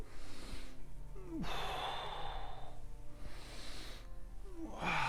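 Two slow, audible breaths taken while the shoulders rotate, each an airy inhale swelling into a sighing exhale, close and clear over a faint low hum.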